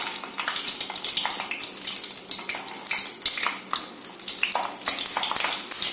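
Stuffed capsicums, set upright in hot oil in a kadai, fry with a steady crackling sizzle, close and fairly loud, with irregular popping bursts and no voices.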